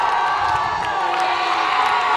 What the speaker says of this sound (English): Crowd is getting amped up and excited here